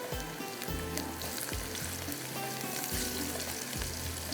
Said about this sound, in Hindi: ये जाएगा गरम मसाला, ठीक है, साबुत गरम मसाला, इसको थोड़ा सा हमें फ्राई करना है